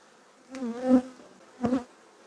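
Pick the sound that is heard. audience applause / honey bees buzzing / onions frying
honey bees buzzing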